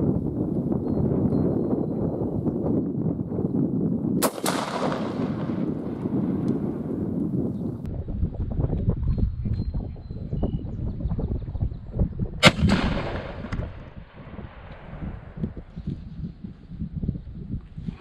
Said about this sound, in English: shooting these birchwood casing targets at 40 yards